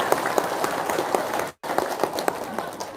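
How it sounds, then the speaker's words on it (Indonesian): An audience at an Islamic religious talk claps together, a steady, dense patter that breaks off for a moment and then resumes, fairly close and at even loudness. "Ya udah, tepuk tangan dah."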